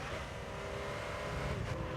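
Pagani Zonda engine in Gran Turismo 3 during a license test at Rome: a steady, sustained engine drone with a faint rise in pitch, continuous and moderately loud with no voices.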